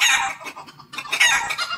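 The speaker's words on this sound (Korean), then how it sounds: "암탉이 갑자기 이상스러운 소리를 내며 두 날개를 늘어뜨렸다" A hen gives an odd, agitated run of clucks and squawks, loud and close, with short bursts and brief pauses, no voices present.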